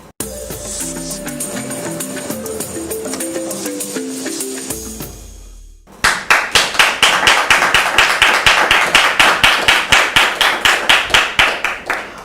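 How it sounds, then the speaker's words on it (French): A studio audience bursts into sustained, brisk applause at the opening of a French-language television show, the clapping loud and close after a stretch of musical tones, rhythmic claps continuing steadily to the end. "j'aime bien quand les applaudissements sont bien nourris de la sorte"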